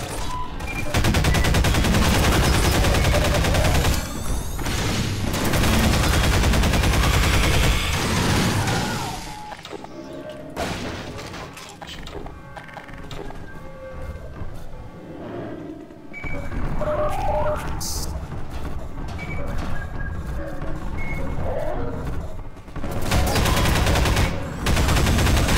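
Gunfire in Half-Life 2: Episode One, with dense, loud bursts of shots and crashes at the start, a thinner stretch of scattered shots in the middle, and heavy firing returning near the end.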